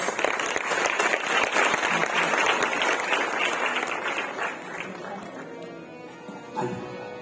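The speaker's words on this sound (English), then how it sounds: "Let's welcome all with a great, uh, with a big round of applause" An audience at an Indian Independence Day cultural festival breaks into sustained clapping that gradually thins and fades toward the end, leaving a few scattered sounds.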